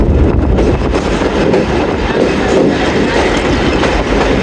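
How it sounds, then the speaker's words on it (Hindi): The Rehman Baba Express passenger train rumbles steadily across a bridge over the Indus River. The loud, continuous wheel and carriage noise is heard from on board, with no talk over it. "इंडस रिवर के ऊपर से गुजर रही है हमारी ट्रेन इस वक्त"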